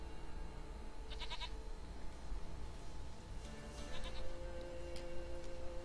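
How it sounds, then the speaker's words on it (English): A goat in The Witcher 3: Wild Hunt bleats in a few short, wavering calls, the first in the middle and more near the end, close and clear over a quiet ambient background. "Goat of mine, dearest, sweetest goat."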